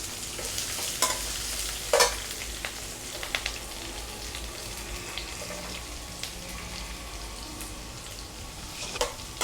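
Onions and curry leaves sauté in browned oil for wheat rava upma, a continuous moderate sizzle with a few sharp spatula clinks and pops, with no talk.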